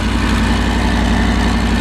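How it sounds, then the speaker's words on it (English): A vehicle engine idles with an exhaust leak on each side, giving a steady, loud low rumble with a fast, even pulsing throughout. "Still has a little bit of an exhaust leak on each side now"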